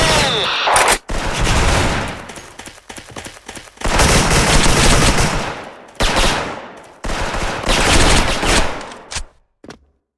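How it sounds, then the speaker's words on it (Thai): Automatic rifle fire in the online shooter Special Force, with loud, dense bursts of rapid shots repeating over ten seconds and brief pauses between volleys. "เอาเลยหนาไปยิง"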